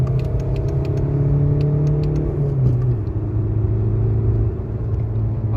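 A VW Golf 4 1.9 TDI with a BMC air filter accelerating on a road test, its diesel engine note rising and dropping as it pulls through the revs, heard loud from inside the car.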